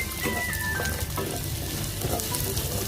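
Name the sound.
garlic and ginger being stirred and sautéed in a pan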